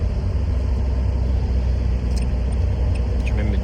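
A Renault Clio 2 car driving and slowing on engine braking, a steady close low engine rumble with road noise throughout, no talk.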